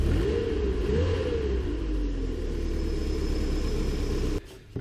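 A Nissan 240SX with a KA24E engine and a faulty alternator revs up close by, the engine note climbing and falling in a couple of swells before dropping away abruptly at the end.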